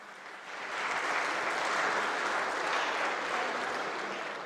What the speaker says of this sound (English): Can we please give them a big round of applause again?